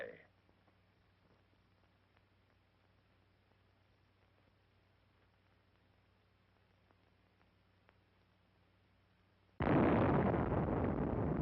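A 1952 Operation Tumbler-Snapper nuclear test blast arrives suddenly as a loud, sustained roar after a long stretch of quiet hum with faint ticks.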